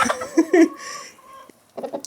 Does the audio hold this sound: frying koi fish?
no